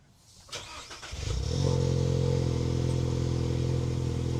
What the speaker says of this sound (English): So we're gonna go ahead and start it.